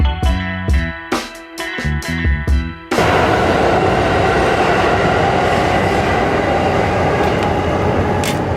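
A New York City subway train rumbles beneath a metal street vent cover, starting after a few seconds of music and then holding a loud, steady roar with faint rattling and screeching.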